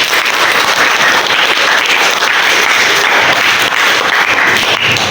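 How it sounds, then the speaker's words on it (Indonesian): Steady, loud applause from a classroom of students fills the whole stretch, a dense wash of clapping hands with no break. "Kasih tepuk tangan dong."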